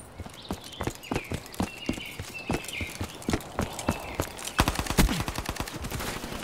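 Rapid-fire 1911 pistol shots in a video game come as a fast, steady string of sharp cracks, with a denser, quicker burst near the end.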